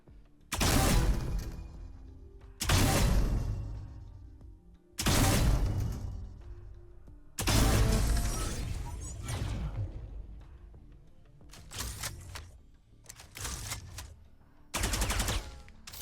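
Gunfire from the RGX 2.0 Phantom skin in Valorant: loud, close bursts of rifle fire with sharp shattering, stylised cracks and decaying tails, repeating in separated volleys, then shorter quicker bursts near the end.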